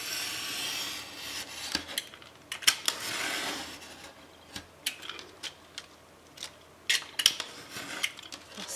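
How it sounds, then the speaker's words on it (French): Close scraping and rasping cuts through stacked layers of baby-girl album pages, with repeated strokes and sharp clicks spread unevenly across the stretch, quiet and with nobody speaking. "et je coupe l'ensemble"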